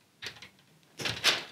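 Wire cutters snipping the wires of a fluorescent light fixture one at a time during an LED conversion, two separate short sharp snips with a quiet pause between them, close and alone.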